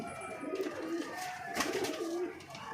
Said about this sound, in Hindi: अभी ये झाड़ पे चल रहे हैं इनके कबूतर